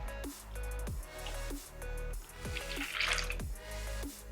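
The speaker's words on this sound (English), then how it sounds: "I've just gone with cold water out of the tap" Cold water running from a kitchen tap, heard as quiet dripping and splashing in short bursts with pauses between, close by in an otherwise still room.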